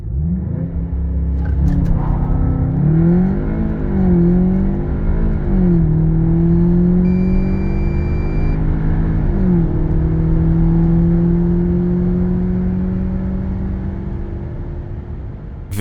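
A VW Arteon Shooting Brake 2.0 TSI 4MOTION with DSG7 gearbox revs hard and pulls through rising gears, the tone climbing, dipping at each shift, then droning steadily upward, heard from inside.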